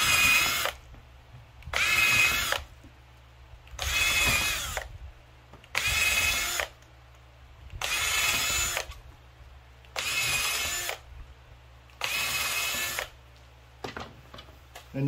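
A power drill bores pilot holes in wooden fence pickets while building a picket fence, sounding as seven or eight loud, even whirring bursts of about a second each, separated by short pauses.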